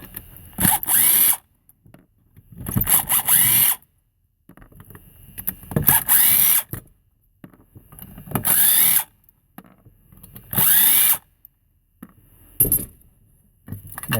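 Power driver removing six Torx bolts from a Schlage BE365 pushbutton deadbolt, several short whirring bursts of the motor separated by pauses and faint metallic clinks, close and loud.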